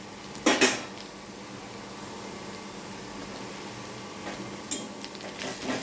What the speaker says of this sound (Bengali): রসুন কুচিটা একটু ভেজে নেব